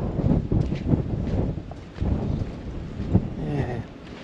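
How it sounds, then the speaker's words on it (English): Gusty wind at a lagoon campsite buffeting the microphone in uneven low rumbling bursts, with a brief quieter lull near the middle; no clear talk. "Hopefully you can hear me alright with this wind."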